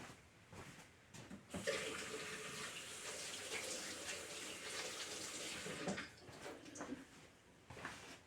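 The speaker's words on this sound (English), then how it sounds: "Wash my hands here." Tap water runs and splashes into a sink as hands are washed in a kitchen, a soft, continuous gurgling wash with brief changes at the start and end.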